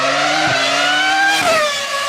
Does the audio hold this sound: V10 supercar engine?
yes